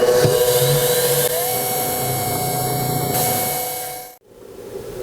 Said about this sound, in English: So I'm using a number 9 clearance drill for a 1032 bolt.